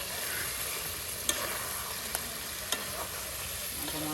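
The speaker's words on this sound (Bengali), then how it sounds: "দেখুন এখন কিন্তু আলু দিয়ে একদম সেই মশলায় উলট পালট করে নেওয়া হচ্ছে।" Potatoes being stirred in hot spice masala, a steady bright sizzle of frying with a few sharp scraping clicks of the spoon against the pan, close and fairly quiet.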